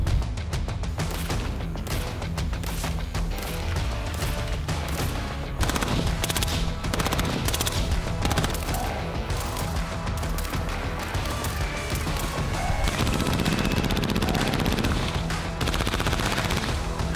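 Sustained full-auto bursts from suppressed Colt M4 rifles with 10.5-inch barrels, dense rapid cracks continuing loudly and without pause for the whole stretch, with no talking.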